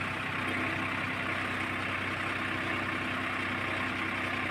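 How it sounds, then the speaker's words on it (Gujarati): A tractor engine runs steadily while the tractor reverses across a field, a continuous mid-level droning rumble with no break, close by and alone without talk. "આપણે ટ્રેક્ટર પાછું પાડતા જઈએ છીએ"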